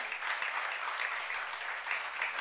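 A church youth congregation applauding during a Korean sermon, giving a steady, moderately distant round of clapping that lasts a couple of seconds.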